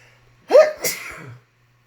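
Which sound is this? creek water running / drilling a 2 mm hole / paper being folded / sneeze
sneeze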